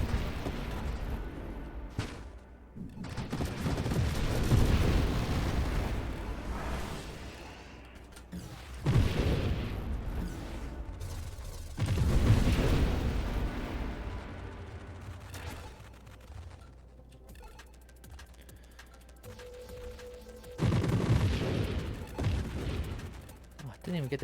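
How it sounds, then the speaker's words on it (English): Explosions in the space shooter video game Nova Drift, a series of booming blasts and crackling bursts rising and falling over about twenty seconds, fairly faint under game sounds with a voice talking at times. "I didn't even get to hit those guys, and they pre-exploded"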